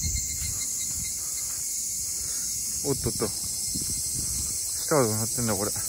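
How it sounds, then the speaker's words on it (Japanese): Cicadas sing in a steady, loud, high-pitched drone on the wooded hill of Koma-yama Park at Shonan-daira in Hiratsuka. The drone carries on without a break while someone speaks briefly over it. "セミの声がいいですね。"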